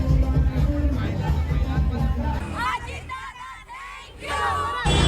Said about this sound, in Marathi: कार्यालयाबाहेर महिलांनी जल्लोष केला